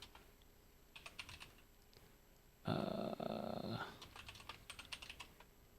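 Rapid clicking of keys on a computer keyboard comes in bursts, interrupted by a loud, harsh rumbling noise lasting about a second.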